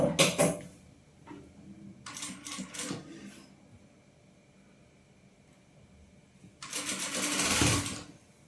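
A sewing machine stitches a frill kurti in three separate bursts of fast, rattling needle runs, each a second or two long, separated by quiet pauses.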